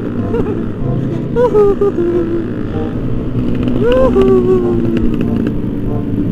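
A loud motorcycle engine drones steadily nearby with rumbling, noisy exhaust and rushing wind on a night ride through city streets, while a voice talks over it throughout.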